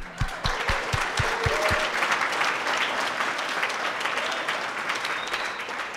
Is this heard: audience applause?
yes